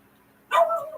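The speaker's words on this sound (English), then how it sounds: "Sorry for the barking dog." A single sharp dog bark rings out midway through a quiet indoor moment, loud and close.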